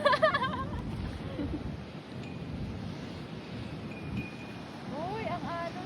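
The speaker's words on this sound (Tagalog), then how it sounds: "Uy, ang alon. Ay, alon. Maraming bula." Blustery wind buffets the microphone on a Florida beach while rough ocean surf rolls and washes in the background, with voices talking briefly over it.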